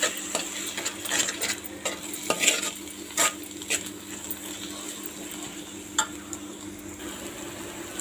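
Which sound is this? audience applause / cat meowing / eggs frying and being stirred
eggs frying and being stirred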